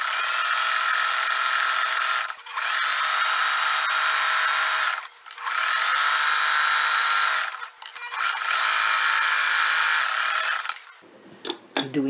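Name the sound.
sewing machine zigzag stitching shirt fabric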